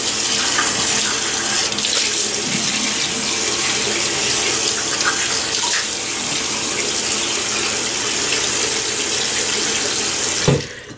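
Tap water runs steadily from a faucet into a sink for about ten seconds before cutting off, filling a bathroom while a face is wetted ahead of a shave with a RazoRock razor.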